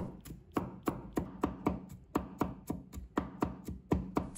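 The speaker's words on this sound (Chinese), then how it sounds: "再准备1把大蒜，把它切成片，" A kitchen knife mincing garlic on a cutting board for cabbage fried rice, giving a steady, close rhythm of sharp chops about three per second, with no talk.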